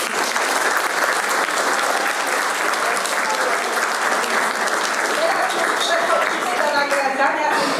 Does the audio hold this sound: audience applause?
yes